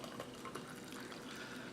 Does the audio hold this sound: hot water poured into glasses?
yes